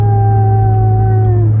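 A human voice imitates a long, wavering howl, a sustained tone that slowly drops in pitch, loud and close.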